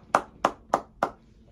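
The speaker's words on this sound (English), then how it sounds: "I'm in the house by myself, clapping by myself." Four slow, evenly spaced hand claps from a single person alone in a quiet room, each one crisp and close with brief silence between.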